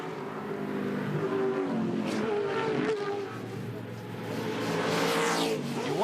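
Touring Car Masters cars racing at Bathurst roar and rev continuously at middle distance, their engine notes rising and falling as they pass, with commentary faintly underneath.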